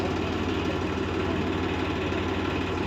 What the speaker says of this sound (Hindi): कितनी जल्दी में आ रहा है हमारा फार्म ट्रैक्टर